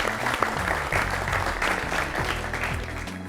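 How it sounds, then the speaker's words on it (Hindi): Studio audience at a televised Olympic quiz show claps heartily for badminton player Saina Nehwal, a lively, sustained round of applause with faint musical or tonal strands threaded underneath. "एक जोरदार तालियां साइना नेहवाल के साथ"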